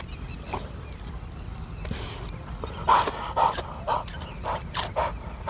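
A dog gives a series of short, sharp barks and yelps in quick irregular bursts, fairly close.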